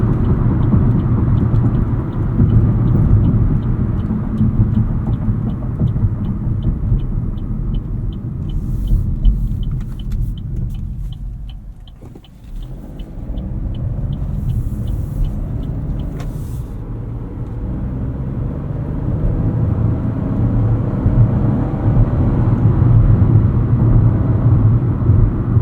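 Cabin of a 2025 Chevrolet Trax 2RS on the move, a constant low engine and road rumble with tire drone, dipping briefly mid-way before building again, with a faint rhythmic ticking and no talk.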